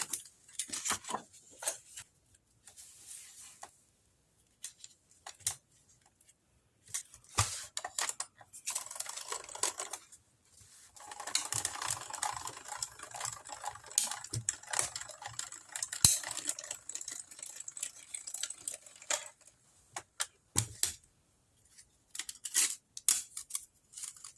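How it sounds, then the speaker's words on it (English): A pink sheet of paper is die cut with a heart-shaped envelope and card die, giving repeated scraping and crinkling paper sounds in irregular bursts with short pauses between them. "let's take this pink sheet of paper and die cut this"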